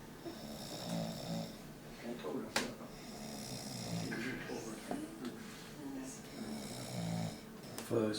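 A person snores in slow, rough, rhythmic breaths with a few louder snorts, close and moderately loud, while people talk quietly underneath.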